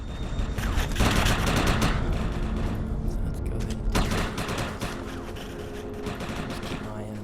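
Rifle in the Defiance beta firing many rounds: dense, continuous rapid automatic fire with sharp cracks and thuds, loud and close, tapering toward the end over steady game noise, with a voice talking over it.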